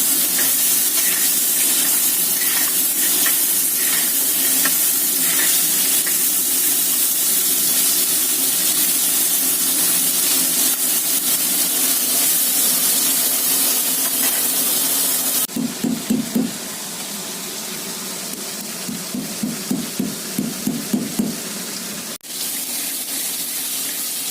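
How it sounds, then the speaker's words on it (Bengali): Crab fries in a clay wok with a steady, loud hiss of hot oil throughout, then bursts of stirring and scraping with crackling sizzle in the later part. "কাঁকড়া ভাজা হয়ে গেছে বন্ধুরা"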